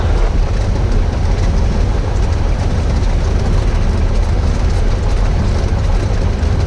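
Small aircraft engine during a pre-flight run-up before a solo flight, a loud, continuous low rumble and broadband roar with propeller wash holding steady throughout, no talking.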